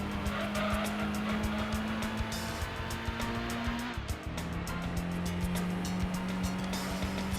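A race car in the Gran Turismo 2 video game roars with a loud sustained engine tone, dipping as the brakes are touched, then climbing again, with tire squeal and skidding throughout, close and continuous.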